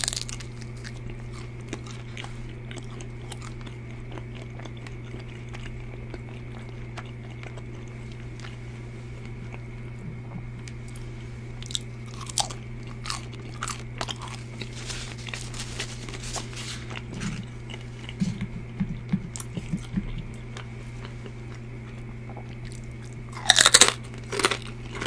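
Crunchy food is bitten and chewed close up in a run of sharp, irregular crunches over a steady low hum, louder toward the end.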